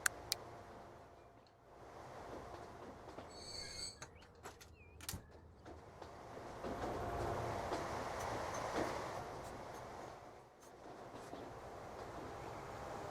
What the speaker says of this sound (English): our ice trains are now up and running